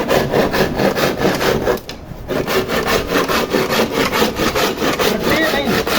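A handsaw cutting through an old wooden door, steady rapid back-and-forth strokes close and loud, briefly pausing near the middle before resuming the same even rhythm.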